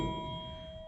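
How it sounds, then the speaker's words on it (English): A stock engine crankshaft without counterweights, struck on the ground, rings out with a clear, steady bell-like tone that sustains and slowly fades, alone and fairly faint. "you hit it on the ground and let it ring, and if it rings like a church bell, then you know there's no cracks"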